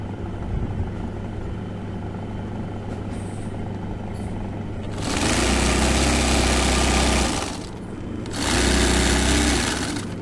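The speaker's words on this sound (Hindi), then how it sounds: "ये देखो कितनी अच्छी सिलाई आ रही है।" Sewing machine stitching a zigzag fall onto a saree with a pico machine, two loud steady whirring runs of a couple of seconds each after a quieter motor hum, close and with no talking.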